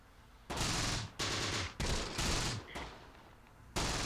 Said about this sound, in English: We're taking fire and sending fire down range here against these guys over in this direction.